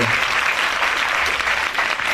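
An audience at a Shiv Puran recitation gathering claps loudly, a dense and sustained burst of applause filling the hall for about two seconds.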